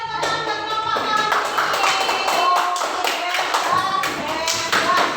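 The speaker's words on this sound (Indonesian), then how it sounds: "Oke, kasih tepuk tangan buat kelompok kawan" Classmates clap for a student group after its presentation in a classroom, a steady burst of hand claps lasting several seconds with a voice speaking briefly over it.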